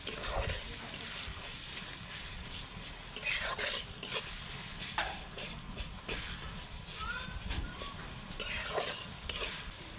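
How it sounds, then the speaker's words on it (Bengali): Chopped onions frying in oil with salt, stirred with a utensil, a close steady sizzle broken by bursts of scraping and clinks against the pan. "এখন পেঁয়াজটাকে খুব ভালোভাবে তেলে ভেজে নেব।"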